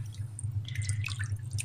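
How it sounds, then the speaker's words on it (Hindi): Water drips and trickles while raw meat is rinsed, making small scattered splashes over a steady low hum, close and moderately quiet, with no voices. "दोबारा 5 दफ़ा पानी मारते हैं, इंशाअल्लाह ठीक हो जाएगा, बिल्कुल साफ़ हो जाएगा गोश्त।"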